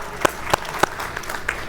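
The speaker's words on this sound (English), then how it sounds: "please feel free to clap about that" Brief, sparse applause from an audience at a city's State of the City address, a few distinct claps standing out before fading into scattered light clapping.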